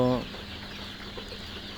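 A single short cluck from a Tiger-breed chicken, followed by quiet farmyard background.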